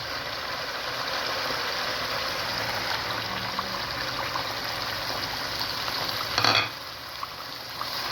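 Tomato goes into a frying masala for chicken kofta curry, making a continuous loud sizzle and stirring scrape, with a brief louder clatter near the end.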